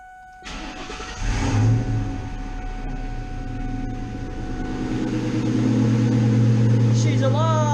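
A car with bad battery terminals cranking and catching, a short starter whir followed by the engine firing up, idling and then revving higher near the end, with a voice briefly heard.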